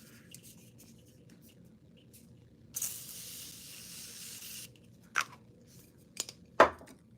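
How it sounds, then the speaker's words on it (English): A single brief hiss of Morphe Continuous Setting Spray misted onto a face, lasting about two seconds in a quiet room, followed by a few soft taps and clicks. "I'm going to take my Morphe Continuous Setting Spray and I'm going to spray my face."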